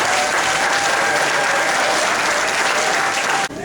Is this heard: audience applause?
yes